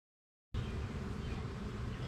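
Honey bees at a hive where pollen is being carried in, giving a steady, dense buzzing hum that starts abruptly and continues close and even without talk.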